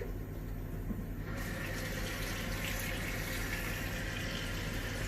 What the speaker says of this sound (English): add some water just to cover, just a little bit over the top of the pan